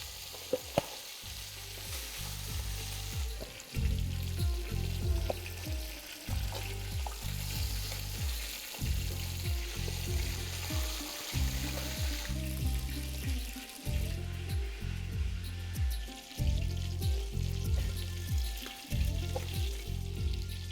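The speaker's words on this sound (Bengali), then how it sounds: "আমি এখানে মাছগুলোকে ব্যাচ ওয়াইজই ভেজে নিচ্ছি" Bata fish fry in batches in hot oil over a medium-high flame, a loud continuous sizzle broken by regular, rhythmic bursts of spattering and stirring scrapes across the whole stretch.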